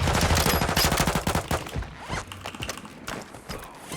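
Rapid automatic gunfire from Call of Duty Warzone 2.0, a dense loud burst of shots in the first second and a half, then scattered distant shots and clatter continuing through the remainder.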